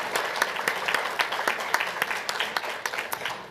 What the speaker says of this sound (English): Let's give a round of applause for all of this energy.